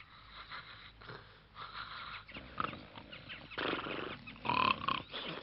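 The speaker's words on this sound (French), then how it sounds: "Je n'ai pas entendu crier, j'ai entendu ronfler" Snoring in an animated French D'Artagnan and the Three Musketeers episode comes as several rough, wheezy, snorting breaths in uneven rhythm, fairly faint and up close.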